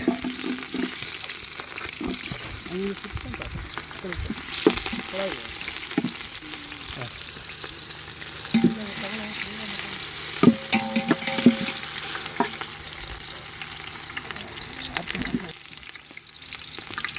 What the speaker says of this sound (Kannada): ಈರುಳ್ಳಿ ಹಾಕೋತಾ